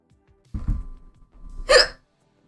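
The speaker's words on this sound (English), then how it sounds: "I have the hiccups." A young woman's hiccup sounds alone at close range, a short thump and then a sharp, high voiced hiccup.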